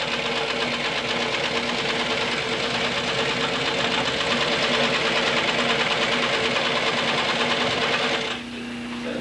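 A sewing machine stitches shoe vamps and counters in a fast, continuous mechanical whirr with rapid needle knocking. It is close and loud, with no speech, and stops abruptly near the end.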